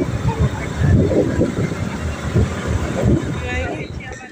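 Wind gusting over a microphone outdoors while a vehicle travels along a village road, a steady low rumble and buffeting throughout with speech mixed in.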